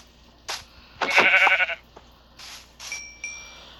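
Sheep bleating in the Minecraft video game: a short series of close, nasal bleats with one longer bleat in the middle and a few softer calls after it, heard alone.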